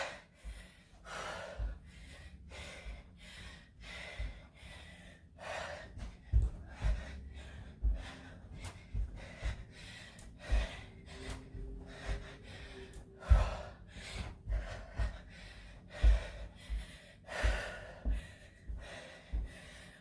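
Rhythmic, heavy panting breaths from someone exercising in a workout, faint and close, with soft thuds of movement beneath them and no talking.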